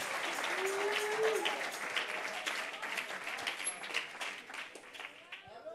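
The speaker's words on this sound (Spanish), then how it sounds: "ahora aplauden como tres" Scattered, thin applause from a church congregation during a worship service, a loose patter of hands that rises briefly and tapers off, heard under a voice speaking.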